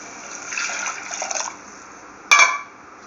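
Water is poured into a pot of tomato rasam, a soft liquid trickle for about a second, then a brief louder splash and gurgle after a pause, close and fairly quiet.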